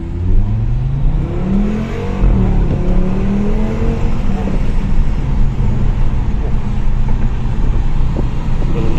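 Audi RS3 Quattro accelerating hard, a loud rising engine roar with climbing gear-change sweeps, sustained close up throughout with faint voices in the background.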